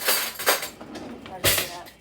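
A spoon stirs sweet potato in a pot, giving a few soft clinks and scrapes of metal against cookware in uneven bursts, moderately close but quiet.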